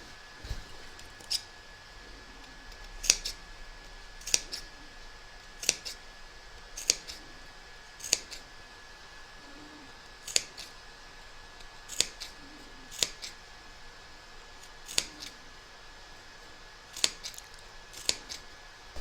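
Scissors make crisp, regular snips while trimming the seams of a raggy quilt, about a dozen single cuts spaced a second or two apart, close and clear with no talk.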